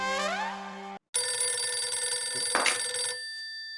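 A telephone rings loudly and close, a steady electronic trill after a brief tone and a short pause, with no talking over it.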